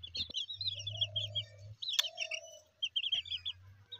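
Local desi chicks about 23 days old chirp in steady high peeps, with a hen-like low clucking drone underneath and a brief sharp click midway.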